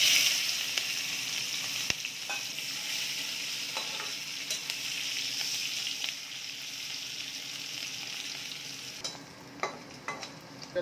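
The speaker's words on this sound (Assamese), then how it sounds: "এয়া মই পাঁচফোৰণ দিলোঁ, পাঁচফোৰণ দিলোঁ তাত ইয়াত ঢালি দিওঁ" Panch phoron spices frying in hot oil for a fish curry: a steady, bright sizzle with occasional crackles and pops, close and loud throughout, with no talking.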